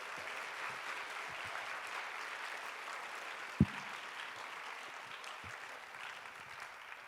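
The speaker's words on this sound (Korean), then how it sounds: "우리 박수하겠습니다." Steady applause fills a church hall at a university group's year-end event, a dense continuous clapping from a crowd with a single sharp knock partway through and no talking.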